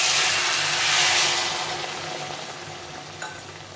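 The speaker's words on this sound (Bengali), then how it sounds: "জলটা দিয়ে দেবো।" Boiled water hitting a pan of frying taro curry, a loud broad sizzle that swells in the first second and then slowly settles, heard close with no talking.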